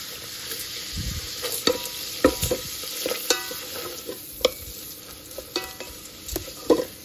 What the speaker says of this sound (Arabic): راني غادي نقليها شوية